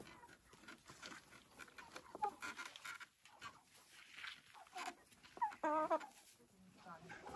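Chickens on a farm cluck faintly in the background, with soft scattered clucks and a short higher call near the end, under quiet talk.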